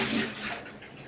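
Dirty rinse water from cleaning a juicer is poured out, a steady splashing gush that is loud at first and tapers slightly over about a second, with no talking.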